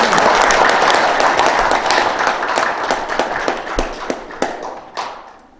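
An audience applauds to welcome a lecturer at a city hall health lecture, dense clapping that starts full and gradually thins into scattered separate claps before fading out.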